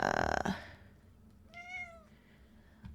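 A house cat meows once, a clear rising-and-falling call close by, following a brief burst of other sound at the start, then quiet background.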